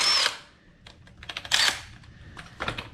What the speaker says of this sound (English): go out and get you guys an impact wrench